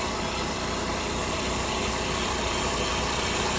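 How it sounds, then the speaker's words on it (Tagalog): Car engine idling while its charging voltage is tested because the alternator is not charging, a loud steady close-up hum and rumble with no break. "Nakaandar yung kanyang makina"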